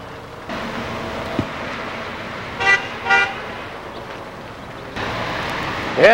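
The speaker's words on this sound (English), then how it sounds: "Some fan honked." Car horn honked by a passing fan, two short toots in quick succession, then a longer blast near the end, heard over steady road and wind noise.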